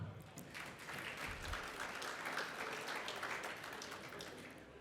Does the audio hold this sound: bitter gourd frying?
no